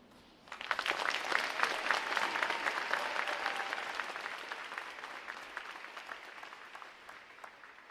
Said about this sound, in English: please join me in giving our well-deserved round of applause for our veterans